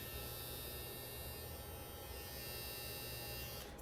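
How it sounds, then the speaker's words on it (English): A Matsui Classic M1 barber hair trimmer with a metal body runs at a quiet, steady hum throughout, alone with no talking, its motor drone unbroken until a faint handling click near the end. "it's the quietest trimmer I have ever used. And it's this Matsui Classic M1."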